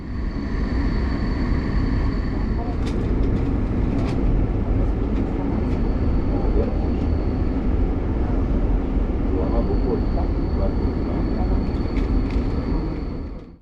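Romanian long-distance electric-locomotive train pulling into Arad, heard from inside the carriage as a steady dense rumble of wheels and running gear with faint squeals and clanks, continuous throughout at moderate level, with voices underneath.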